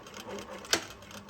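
A single short sewing machine stitching burst through fabric while sewing a top with darts, a brief whirring pulse rising out of quiet room tone.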